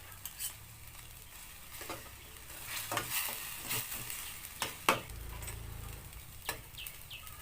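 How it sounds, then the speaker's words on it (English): Pork being stir-fried with basil, soy sauce and other sauces in a pan, with a steady sizzle under repeated clinks and scrapes of a utensil stirring against the metal, close and moderately loud. "Then stir until pork is cooked."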